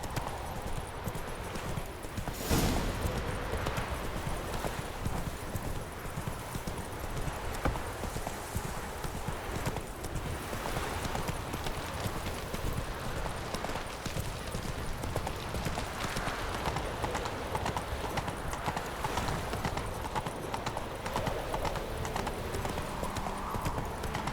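Roach, a horse in the video game The Witcher 3, gallops in a steady, rapid clip-clop of hooves that runs continuously, with a brief louder burst early on and a faint snort or whinny.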